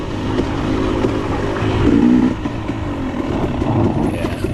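A 2022 KTM 300 XC-W two-stroke dirt bike racing a hare scramble through the woods, engine buzzing and revving loudly up and down with surges, close and continuous.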